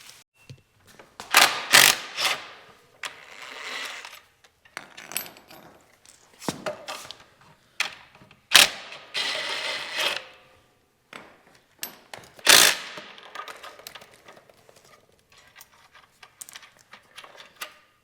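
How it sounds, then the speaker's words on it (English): An impact wrench removing the foot pegs on a Talaria Sting R electric motorcycle, giving several loud close bursts of rattling hammering, each a second or two long, separated by quieter pauses and small tool clinks. "It's really nice when you have an impact wrench."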